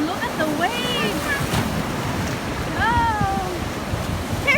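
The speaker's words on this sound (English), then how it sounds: "Look at the waves." Ocean waves wash steadily onto a beach in a continuous broadband surge, with a voice and family chatter carrying over the surf.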